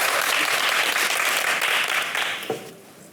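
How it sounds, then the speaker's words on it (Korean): Audience clapping in a church lecture hall on relationships and marriage, a dense, steady round of applause that fades out near the end, with a brief voice cutting in as it dies away. "박수 한번 해줘요."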